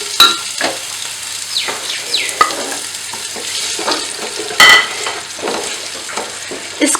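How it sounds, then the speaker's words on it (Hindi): Onions fry in a pot for beef pulao, giving a moderate, steady sizzle. Stirring scrapes and occasional sharp knocks of a spoon on the pot sound close by, with no talk. "और साथ ही हम इसमें डाल देंगे प्याज"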